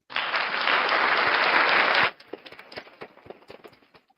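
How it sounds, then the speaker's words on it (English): Loud applause sound effect played on a livestream, a dense wash of many hands clapping for two seconds that cuts off abruptly, leaving scattered faint claps and clicks. "That is another, that's more of a cheer. You're getting an applause."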